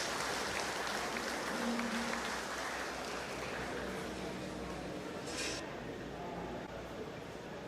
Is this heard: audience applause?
yes